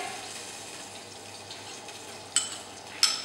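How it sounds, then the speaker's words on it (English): Garlic sautés in leftover oil from cooking sirloin, giving a soft, steady sizzle throughout, broken by two brief sharp scraping clicks near the end, with no talking. "from the remaining oil, we're going to saute our garlic"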